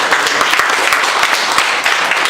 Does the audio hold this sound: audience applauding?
yes